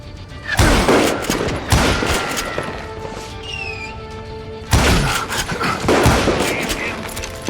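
Gunfire in the Western shooter Call of Juarez: Gunslinger, with loud blasts and rapid bursts in two clusters separated by a quieter stretch of ringing tones, while a voice talks over the shooting.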